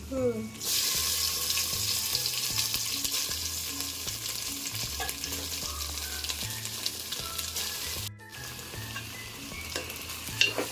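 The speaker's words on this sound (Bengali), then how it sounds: "এবার সুন্দর করে চালটাকে ভাজা ভাজা করতে হবে" Rice sizzling in a pan over medium heat for basanti pulao, with cashews and raisins already fried in, steady and close with occasional stirring scrapes and soft melodic music underneath, briefly cut off near the end.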